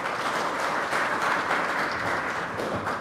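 Steady, dense applause from an audience at a Korean union forum on the political rights of public officials and teachers, welcoming the teachers' union chairman. It sustains evenly at moderate loudness throughout.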